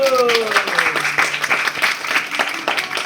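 Audience applause after a musical's final curtain-call stage greeting, a crowd clapping loudly and continuously, close and dense, with a few tonal voice traces at the start fading into the clapping.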